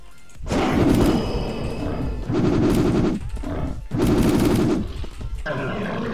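Video game gunfire, rapid automatic bursts in three or four long volleys, loud and close, with short gaps between them.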